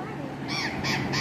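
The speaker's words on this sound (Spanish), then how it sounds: "hay cualquier cantidad de loros." Parrots squawking near a river by a bridge at La Huertita dam, San Luis, Argentina, several harsh, raspy calls in quick succession, loud and close over a constant background.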